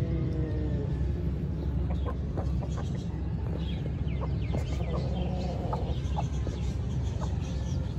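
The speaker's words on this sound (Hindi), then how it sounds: "ये हमारी ब्राउन वाली मुर्गी" Brown hen clucking softly in a run, with scattered short clucks and faint rustling heard over a steady, loud low background rumble.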